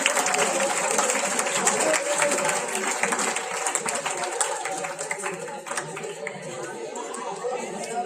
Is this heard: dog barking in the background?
no